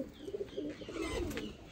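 A pigeon coos softly nearby, a few low rolling murmurs over a quiet background.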